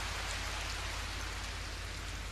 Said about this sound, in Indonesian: Oh, bener, tiba-tiba hujan.